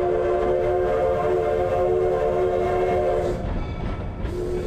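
Georgetown Loop railroad train in Colorado's Clear Creek Valley sounding a loud, sustained horn over the rumble and clatter of the running train, the horn cutting off briefly before resuming.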